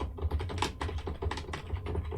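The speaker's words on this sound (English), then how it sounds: "If you can hear typing, my old man keyboard." An old computer keyboard clatters with rapid, continuous typing, the keystrokes close and busy over a low hum, with no voices.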